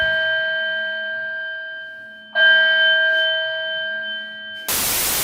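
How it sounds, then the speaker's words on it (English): A loud electronic fire alarm rings steadily with a shrill, buzzing tone, jumping louder partway through before a burst of harsh static noise. "All right, fire alarm is done."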